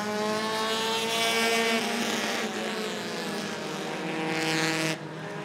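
Bandit-class race cars take the green flag at Rockford Speedway, their engines a loud, sustained, rising roar of many machines together that fades slightly toward the end.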